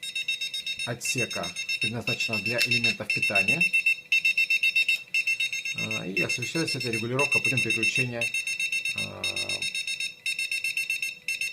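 An Enuflex enuresis alarm set to sound mode gives a continuous, loud electronic beeping that runs through the whole clip. Someone speaks Russian over it in several stretches.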